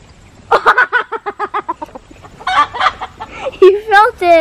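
Free-ranging chickens clucking up close, a quick run of rhythmic clucks followed by louder, rising squawks and drawn-out calls.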